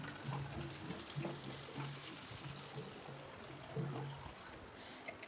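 Water pours into fridge bottles during hot weather, a steady trickling stream running throughout at moderate, close range with a faint rhythmic background hum.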